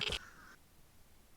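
A crow in the survival game Vigor gives a single harsh, nasal caw, short and fairly close, followed by quiet ambience.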